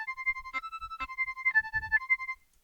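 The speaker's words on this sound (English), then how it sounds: "And those are two tracks that I did to create one whistle sound," Two synthesized whistle tracks made with the Yoshimi synth, one lower and one higher, playing together as a single whistle line of clean steady tones in short phrases, with faint low thumps beneath and silence at the end.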